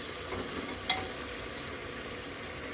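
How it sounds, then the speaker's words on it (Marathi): Prawn biryani masala with tomatoes and a little salt is mixed in a pan, a quiet steady sizzle with one sharp spoon clink early on, with no talk. "सगळं मिक्स करा"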